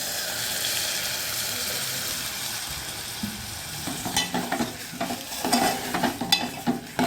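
Onion with turmeric and field beans is sautéed in a pan, beginning as a soft steady sizzle and then turning into louder, irregular scraping and stirring strokes toward the end.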